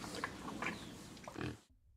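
Pigs roaming the New Forest during pannage season give short grunts and squeals, close and fairly quiet, before cutting off abruptly.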